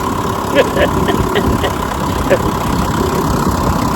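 A 1957 Johnson Sea Horse outboard motor idles at its lowest setting with a steady, loud, even rumble and a few faint knocks, running continuously without stalling.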